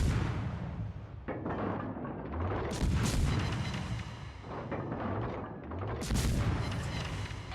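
Naval guns fire at battleships in the World of Warships video game, with the destroyer Kidd in action: a run of loud, rolling booms and blasts that overlap into a continuous rumble, with no voices.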